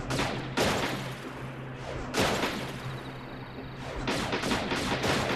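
Gunfire from the Wii Play clay shooting game sounds as a few loud bursts of rapid shots, each with quick repeated cracks and separated by short pauses.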